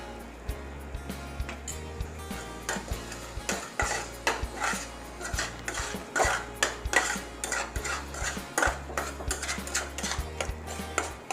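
Spices such as chole masala, red chilli powder, garam masala, turmeric and hing are stirred together in a pan for chole, with steady metallic scraping and clinking of a spoon against the pan alongside a low continuous hum.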